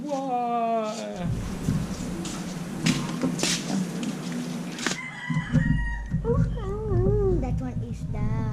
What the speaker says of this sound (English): That one is the rooster.